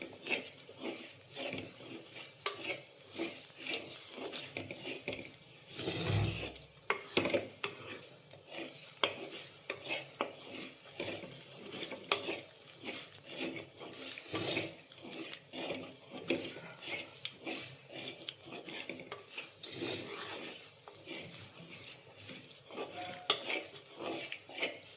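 Spice powders roasting in a pan for a meat roast, stirred continuously so a spoon scrapes and rattles against the pan over a steady soft sizzle, close and with no voices.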